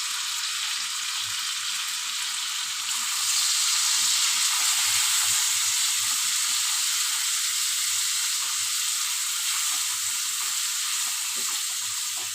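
Pieces of rui fish fry in hot oil with salt and turmeric, giving off a steady, loud sizzle that grows denser after a few seconds and holds without pause.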